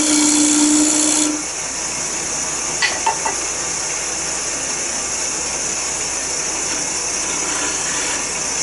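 A piece of wood spinning on a lathe while a Hatfield rod scraper cuts it, giving a steady hiss and whir with a louder motor tone at first, then a few small ticks of the tool against the wood.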